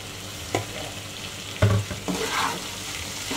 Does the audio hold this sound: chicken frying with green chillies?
yes